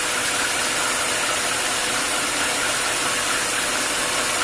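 Milling machine taking a 1/4 inch undercut in annealed 4140 steel held in a vise, a dense, steady hiss and grind that stays loud and unbroken from start to finish.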